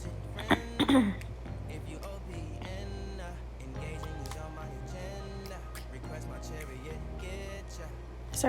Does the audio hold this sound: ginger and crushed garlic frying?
no